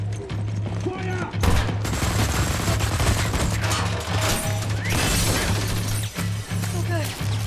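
Gunfire in Wolfenstein: The New Order on PC: dense, loud bursts of automatic weapon fire with sharp shots and crashes, continuing without pause through the whole stretch over a steady low game hum, with a voice shouting now and then.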